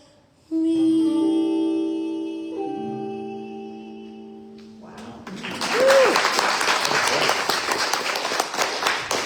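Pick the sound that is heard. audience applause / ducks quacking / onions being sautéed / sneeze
audience applause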